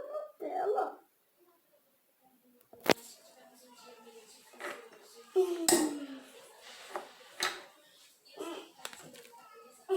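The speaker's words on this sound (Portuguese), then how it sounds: "E agora eu vou pegar com a espátula." A spatula scoops and scrapes edible Nutella slime in a bowl, making sharp clinks and soft smears up close. Someone speaks quietly between the sounds, and there are long stretches of near silence.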